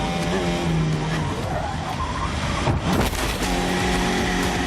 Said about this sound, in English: he's gone in rearwards and spun round